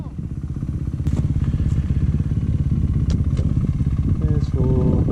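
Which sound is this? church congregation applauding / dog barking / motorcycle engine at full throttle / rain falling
motorcycle engine at full throttle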